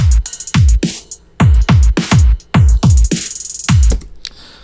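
A loud drum loop of booming kicks and crisp hits runs with a filtered notch gliding up then down across it, creating a whooshing sweep.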